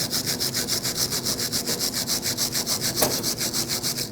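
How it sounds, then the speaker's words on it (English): A metal file scrapes swollen brake hardware flat on the rear brakes of a Nissan Frontier, making steady, rhythmic back-and-forth rasping strokes, close and loud, with no talk. "If it's swollen, you want to file it down flat."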